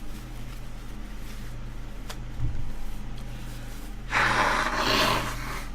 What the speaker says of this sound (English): I will just blow my nose.